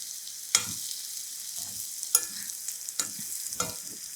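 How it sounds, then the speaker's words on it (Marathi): Potatoes and spices are stirred in a pan with a steel spoon for a potato rassa curry, giving a few sharp metallic scrapes and clinks over a soft, steady sizzle. "आता स्टीलचा चमचा घेते म्हणजे व्यवस्थित होईल वा वा वा बटाटा छान मिसळला गेला पाहिजे"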